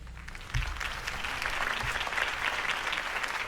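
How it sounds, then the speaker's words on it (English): Crowd applause in the video game Batman: The Telltale Series breaks out loud and sustained, the clapping swelling quickly and continuing evenly throughout. "could have heard that applause"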